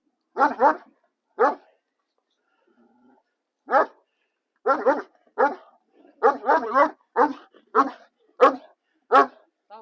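A dog barks in short bursts, single and double barks spaced irregularly with quiet gaps between, loud and close.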